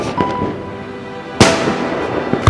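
Fireworks burst at night in a street, a few sharp loud explosions with crackling tails, the biggest bang arriving mid-clip after quieter pops.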